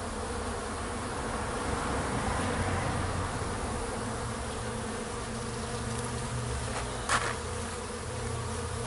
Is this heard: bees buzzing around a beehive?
yes